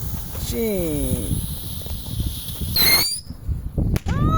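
A homemade plastic rocket firework launches outdoors with a rising whistle and a sharp hissing whoosh near the middle, then a second brief whoosh, amid rustling and background noise with voices nearby.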